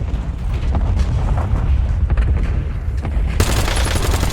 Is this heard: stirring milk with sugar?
no